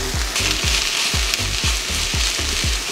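Chopped cabbage stirred in a pan with tomato paste sizzles steadily, with a regular series of scraping strokes about every third of a second riding over a continuous close fry, and no voices.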